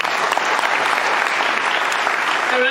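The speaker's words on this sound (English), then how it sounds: "A round of applause, ladies and gentlemen." Steady, loud audience applause fills the whole stretch at a Jubbaland delegation's conference in Lusaka, a dense wash of many hands clapping without a break and no voices standing out.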